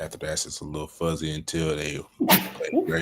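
A single sharp sneeze bursts out near the end of a stretch of conversational talk between two men in a sports discussion, brief and close.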